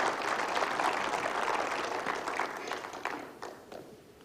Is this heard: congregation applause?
yes